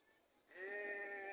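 A single sheep bleats, a long wavering cry that fades in and holds steady, fairly faint against a quiet background.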